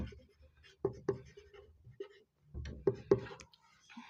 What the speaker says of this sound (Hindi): यहाँ पे फर्स्ट अपन लिखेंगे क्लास इंटरवल